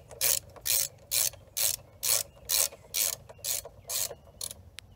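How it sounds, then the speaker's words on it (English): A ratchet wrench tightening bolts on the rear master cylinder of a 1981 Yamaha XS850 Special motorcycle: about ten evenly spaced bursts of clicking, close and crisp, with no talk. "I'm not going to torque this first one down because I want to snug this one up as well."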